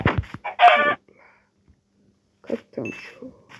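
A Minecraft chicken gives a few short clucks close by, followed by a quiet pause and some soft game sounds or murmurs.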